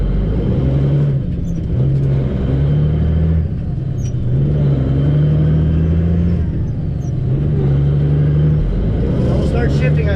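A semi truck's diesel engine drones steadily up close, its pitch stepping up and dropping in repeated cycles as the driver works up through the gears, with a rough rumble underneath throughout.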